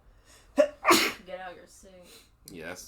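A person sneezes sharply with a loud burst, set among brief spoken words during a podcast conversation.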